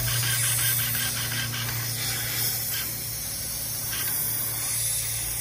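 Compressed air hissing steadily from the air system of a Peterbilt 389 truck around the fifth wheel, a continuous loud close spray-like hiss over a low engine hum.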